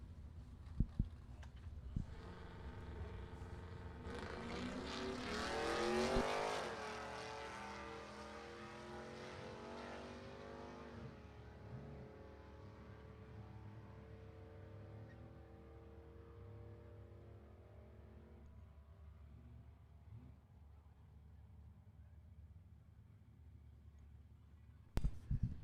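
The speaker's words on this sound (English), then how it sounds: "Ted Thompson up again in this class with his Mustang. Up against Robert France in the Trailblazer." Drag race cars, a Ford Mustang and a Trailblazer, launch and run down the strip; a roaring engine surge builds, peaks, then fades into a long receding drone, distant and without talk.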